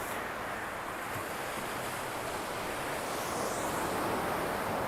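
Ocean surf at Takapuna Beach in Auckland rolls in as a steady, broad wash of breaking waves with light wind noise. The sound is continuous and builds slightly toward the end, with no voices.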